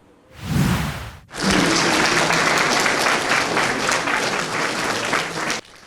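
Welcoming applause for the Ukrainian national baseball team at Kropyvnytskyi technical university, a brief burst of clapping, a short pause, then steady sustained applause from a crowd for several seconds before stopping abruptly.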